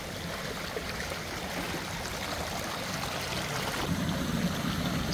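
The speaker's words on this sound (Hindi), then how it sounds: "इस एक जगह पे कम से कम 6 मुख्तलिफ जगहों से इस तरह के ताज़ा और शफाफ पानी के झरने जारी हैं।" Fresh, clear spring water flowing from several outlets in a mountain setting, a continuous broad rushing and trickling wash at moderate volume, steady throughout with no voices.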